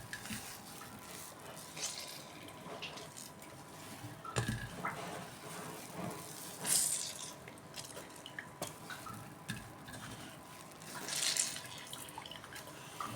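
Water squeezed out of soaked soy chunks (meal maker) by hand, faint wet squishing and trickling into a vessel, with a few louder splashes and drips between quieter stretches.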